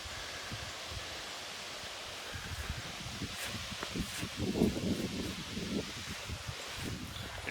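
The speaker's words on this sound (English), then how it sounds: "It's still pretty windy out here." Steady wind roars and buffets outdoors, with rustling and low rumbling gusts that swell a little in the middle. No voices.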